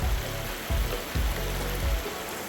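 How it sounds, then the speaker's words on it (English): Creek water flows steadily near its headwaters beside a road, a constant rushing wash with a few low rumbling surges, close and fairly loud, with no voices. "Little clip of a closer to the headwaters of our creek that the claim is on."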